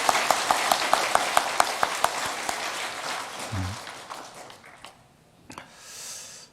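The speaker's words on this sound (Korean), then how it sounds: "우리 모든 할렐루야 대원들의 격려의 박수 한번 부탁드립니다" A church congregation applauds the choir at a Sunday Christmas Eve service, a brisk run of loud rhythmic claps that thins out and gives way to scattered shuffling, breathing and a soft murmur.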